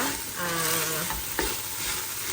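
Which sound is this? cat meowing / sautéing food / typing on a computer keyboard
sautéing food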